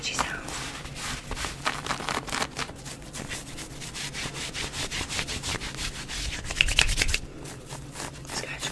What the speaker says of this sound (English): I've got this sparkly shirt on. This will be very tingly. I love the scratchy sound.